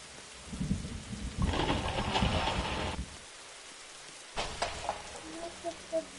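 Rain in the video game 99 Nights in the Forest falls as a soft hiss that comes in separate bursts broken by quiet gaps, with faint low rumbles and a few soft knocks.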